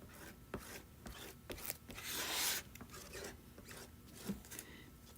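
Paste scraped across a coastal-themed tray, a near, dry rubbing and scratching that comes in short strokes, with one longer, harsher scrape in the middle; no one speaks.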